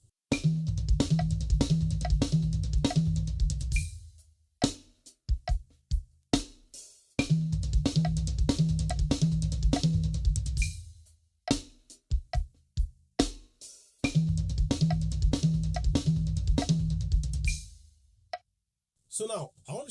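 Drum kit playing thirty-second-note subdivisions, dense rapid strokes in several sustained bursts broken up by slower isolated hits, close and loud, with a short noise at the end.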